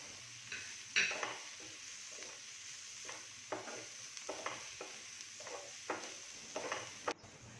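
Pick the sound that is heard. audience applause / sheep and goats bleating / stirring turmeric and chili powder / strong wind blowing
stirring turmeric and chili powder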